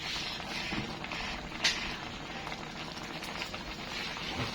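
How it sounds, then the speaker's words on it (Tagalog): A pot of fish pinangat stew bubbles on the stove, a soft steady simmer with faint pops and sputters, heard quietly at close range. "Kumukulo na ang ating pinangat na isda."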